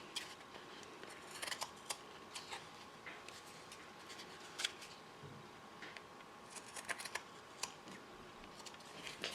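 Scissors snip through a paper craft tag in a quiet room, a run of short, crisp cuts and clicks scattered across the stretch, fairly faint and close, with no talking.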